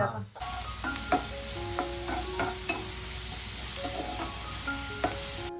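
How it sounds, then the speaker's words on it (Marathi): Chopped garlic hits hot oil in a pan, a bright continuous sizzle with spatula scrapes and clinks of stirring scattered across it, close and alone with no voices. "तेल गरम झाल्यावरती लसूण टाकलेलं आहे चॉप केलेला"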